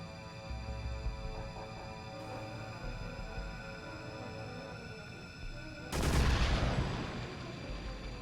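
Gunfire in the PS2 action game Extermination, set in an unsanitary lab area; a loud burst of shots erupts suddenly over a steady droning game soundtrack and hum, then tails off into ringing reverb.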